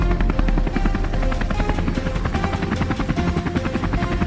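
Compact helicopter flying out over misty fields for a wild boar hunt, its rotor beating in a steady, loud rapid thump with engine roar throughout, close by and with no voices.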